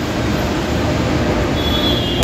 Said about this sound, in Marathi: मोनोरेल गेली आहे